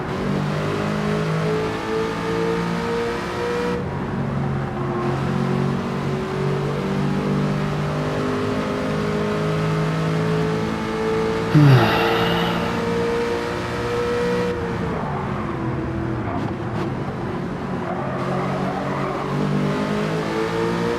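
Aston Martin Vantage engine racing in Gran Turismo 7, a steady loud engine drone rising and falling through gear changes, with a brief bump and other cars audible, no talking.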